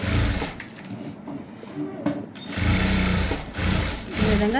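A sewing machine stitches around a blouse front piece in bursts, loud and close, its motor whirring through runs of stitching with brief pauses between them.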